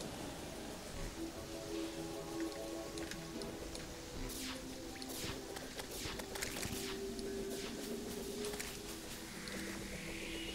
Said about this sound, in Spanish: ¿Ya se pone a llover?